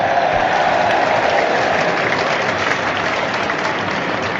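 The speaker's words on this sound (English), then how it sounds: "That's the round of applause you heard from the Sunderland fans around us as Curtis got the first yellow of the game." Sunderland fans in a stadium at a Checkatrade Trophy final against Portsmouth applaud steadily as Portsmouth's Ronan Curtis receives a yellow card, a broad, even wash of clapping from the crowd around.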